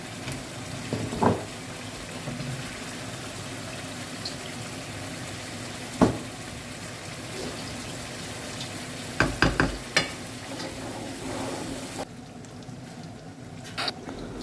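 Chicken pakoras and fish masala fry in oil in a home kitchen, giving a steady close sizzle. Occasional clinks and stirring knocks of utensils sound over it, with no one speaking.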